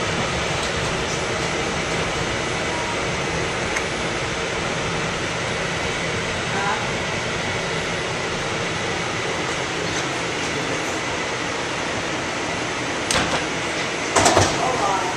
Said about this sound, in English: This is a Bedford Park Boulevard bound four train.